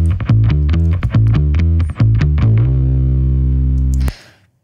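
A bass guitar plays a rhythmic run of repeated notes through heavy distortion from an Ampeg amp, then holds a ringing note before cutting off abruptly with a burst of noise.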